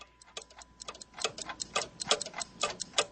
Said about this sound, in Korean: 시계의 초침 소리를 멈추게 할까 하는 생각도 했다.